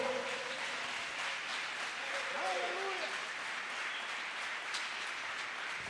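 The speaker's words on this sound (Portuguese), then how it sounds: "Erga suas mãos e aplauda ao Senhor." A church congregation claps together in a faint, steady wash of applause while a voice speaks over it.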